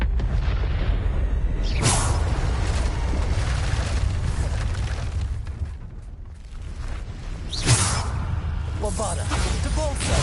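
Bombarda explosion spells blasting in Hogwarts Legacy combat, a series of loud booming bursts with whooshes over a constant low rumble of battle, several sharp impacts standing out.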